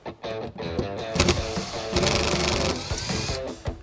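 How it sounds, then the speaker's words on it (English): A bolt is worked out with a T30 Torx driver inside a Jeep Wrangler JK, heard as a close, buzzing power-driver whir in short bursts with brief pauses between, no speech. "So we're gonna use a T30 Torx to remove this bolt."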